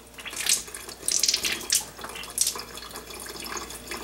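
Water running out of a coffee maker's spigot during a deep clean, splashing in uneven bursts into a container at close range, with no talking.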